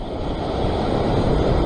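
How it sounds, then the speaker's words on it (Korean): Ocean waves breaking on a rocky shore during rock fishing near Sydney, a brief loud wash of surf mixed with wind buffeting the microphone. "멀리서 오는 파도 항상 봐주고"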